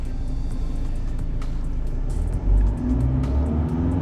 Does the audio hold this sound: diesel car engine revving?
yes